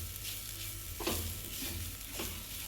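Grated coconut being dry roasted and stirred in a pan over low heat, with a faint steady crackle and soft scraping strokes at intervals.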